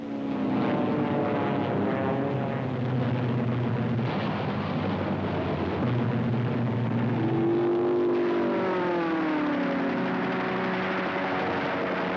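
WWII-era propeller aircraft engines of German and RAF warplanes roar in a loud, continuous drone, the pitch sliding and rising as planes pass overhead.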